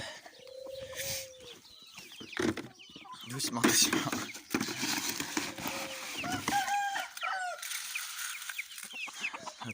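Farmyard hens cluck and chatter up close in a poultry pen, with short bursts and squawks over several seconds while someone speaks softly among them.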